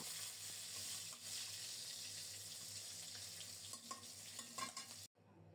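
Rohu fish pieces frying in a pan with oil, a continuous soft sizzle with faint crackles and occasional stirring, steady and close until it cuts off abruptly near the end.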